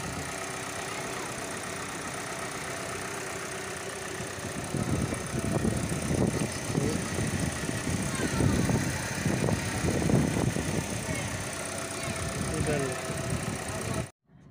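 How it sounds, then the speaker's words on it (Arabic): Idling engine of a Great Wall M4 1.5 VVT with a second-speed radiator fan fault: a steady, close idle hum that turns rougher and louder with uneven rumbling pulses midway, then cuts off abruptly at the end. "الحس تاع الموتور هذا هو."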